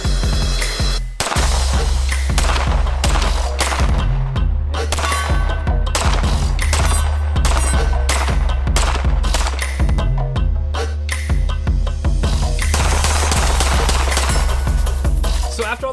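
Staccato pistols fire in rapid bursts and single shots at an outdoor range on a cold day. The shots are loud, sharp and closely spaced, with metallic clangs between them across a shooting montage.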